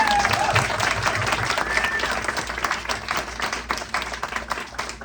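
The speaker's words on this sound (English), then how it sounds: "Let's clap for the children again." An audience claps for kindergarten performers at a winter school show, a dense, steady wash of many hands lasting throughout, with faint voices and a few high whistle-like tones mixed in.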